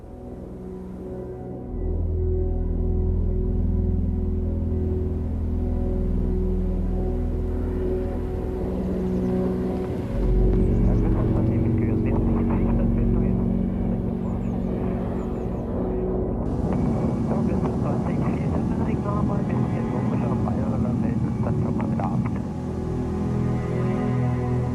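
Small electric airplane flying overhead, a steady whirring propeller drone with a low rumble that shifts in tone midway and continues loud and sustained throughout.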